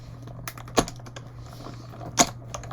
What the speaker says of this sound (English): I'm going to punch these little guys out of vellum